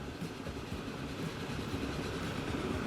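An Atlantic steam train in the video game Transport Fever 2 runs along the track, with continuous rumbling and rhythmic wheel clatter at a steady, moderate level and no speech.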